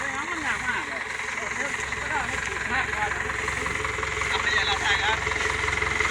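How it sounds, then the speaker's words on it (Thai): Nkr165 tractor engine runs at a low, steady idle with constant rumbling vibration, while people talk over it throughout. "ติ๊กเอารถไถมา มาเปิดก่อน"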